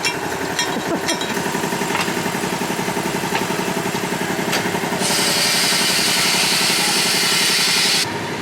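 A car engine, said to sound like a V8, idles with a rapid, rhythmic, loud rumble that carries on throughout, joined by a steady broadband hiss for the last few seconds.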